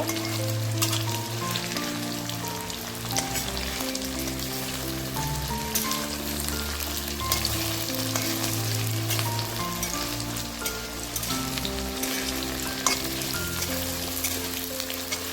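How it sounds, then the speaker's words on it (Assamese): Steady frying hiss of paneer in hot oil with occasional clinks and scrapes as pieces are turned in the pan, continuous and close. "এনেদৰে লুটিয়াই ভাজি ল'ব।"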